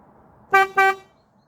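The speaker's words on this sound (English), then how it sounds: "I personally think even the horn sounds better." A Fiat Punto Mk1 car horn gives two quick, close toots in a row, then falls silent.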